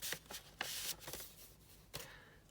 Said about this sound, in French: Hop, je remets dans l'enveloppe.